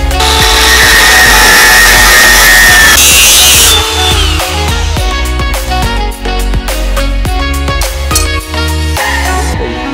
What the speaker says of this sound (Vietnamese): Giờ mình phải cắt cái sắt nha.